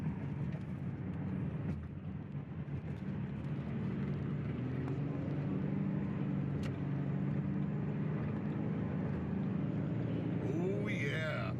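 A 2012 Ford Mustang V6 fitted with a K&N cold air intake cruises on the freeway, with a steady low engine and road drone heard from inside the cabin, a few faint knocks, and brief faint sounds near the end.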